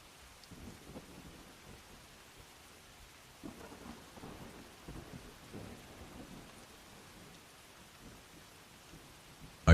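Steady rain falls softly, with low rumbles of distant thunder rolling underneath, faint and continuous throughout.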